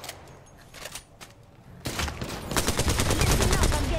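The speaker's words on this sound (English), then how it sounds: "Listen up, I'm getting shot at" Sustained bursts of gunfire in an Apex Legends match, sparse cracks at first, then a loud, continuous fusillade of rapid shots building toward the end, with some voice underneath.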